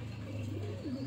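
Rampuri and Firozpuri bloodline pigeons kept on a rooftop coo steadily in a low, continuous murmur, fairly close and with no voices over it.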